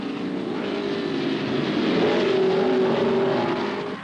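Racing cars at the 1955 British Grand Prix, a loud engine drone that builds steadily with a sustained rising tone as cars pass close by, no talk.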